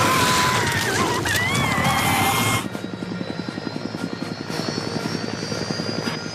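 Helicopter in a Carnosaur dinosaur film scene, loud turbine and rotor roar at first, then a rapid steady rotor chop with engine whine continuing close by.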